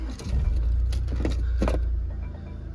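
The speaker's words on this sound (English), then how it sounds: "Sit in the car, just start it up. It's just a little push start." Jaguar F-PACE 2.0 D180 diesel with automatic gearbox and AWD, started by push button: a steady low engine rumble fills the cabin throughout, with a few light clicks and jingling sounds near the start.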